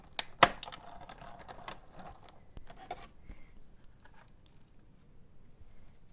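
A die cutting machine presses through eight stacked layers of paper for a birthday card, giving a couple of sharp clicks and snaps at the start, then faint scattered ticks and mechanical rattles, close and quiet.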